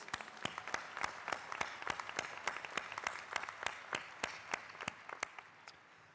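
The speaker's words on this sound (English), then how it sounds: "A round of applause for the performers, please." An audience at a university graduation ceremony claps in steady, continuous applause after a Chinese lion dance performance, many hands together, fairly distant and soft.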